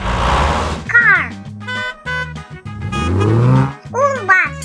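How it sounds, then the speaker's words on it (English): A car engine revs in rising, whining sweeps, loud and near, with a voice speaking in between. "Car."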